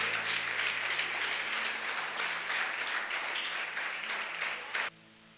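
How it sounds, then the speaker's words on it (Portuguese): A church congregation applauds loudly during a sermon, a steady wash of many hands clapping for nearly five seconds before cutting off abruptly, leaving a faint hum. "Você pode aplaudir o Senhor bem forte."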